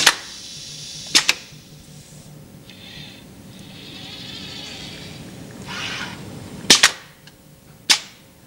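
A staple gun drives staples into wooden crate slats at a robotic assembly fixture, giving sharp, loud, isolated snaps: a pair near the start, a cluster of two or three later, and a final one, with quieter machine hiss and movement between them.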